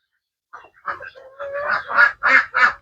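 Ducks on a duck farm quacking near at hand after a moment of silence, a run of harsh calls that builds into several loud, evenly spaced quacks.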